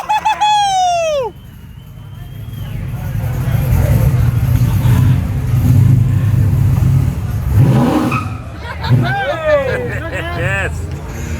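Car engine revving at the Rockynats car festival, a rising roar that swells and holds over crowd hubbub, with cheering voices at the start and end.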